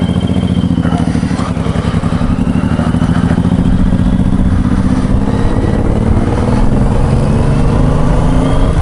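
A large, heavy 2015 motorcycle with a 22-litre tank idles close by with a loud, steady low-pitched throb and clatter, continuous throughout without revving or speech.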